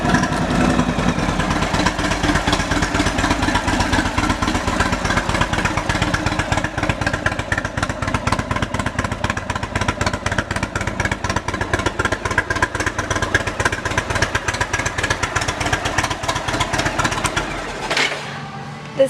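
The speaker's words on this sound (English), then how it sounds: "Let's listen to the exhaust. It sounds great." A 2017 Indian Chieftain Limited motorcycle idles through its exhaust, a steady loud rhythmic thumping pulse held near the bike for most of the clip before cutting off abruptly near the end.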